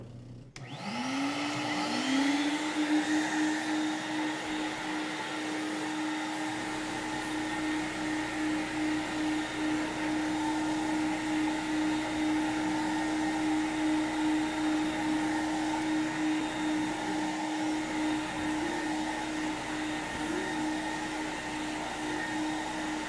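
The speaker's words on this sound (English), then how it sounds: "I'm going to clean one section first with the regular wand" Carpet cleaning machine with a regular wand working over carpet, a loud steady vacuum roar that spins up at the start and holds a constant whining tone with slight rhythmic pulsing throughout, close and continuous with no voices.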